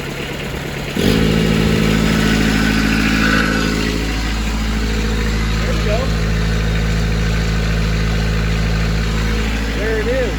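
Kubota B3200 compact tractor engine starts up and runs loud and close, holding a steady idle with a slight rise in revs; a voice talks over it.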